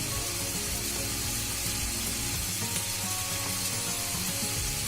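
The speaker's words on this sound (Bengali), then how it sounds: "এটা একটু ভাজবো আমি হালকা একটু লবণ দিয়ে" Khud, broken rice, fries with a little salt in a pan, giving a dense, steady crackling sizzle that runs evenly and close throughout with faint scraping underneath.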